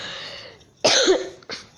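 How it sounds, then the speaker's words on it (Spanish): Two harsh coughs, one strong and then a shorter one, close and loud after a moment of faint background noise. "Tengo una tos."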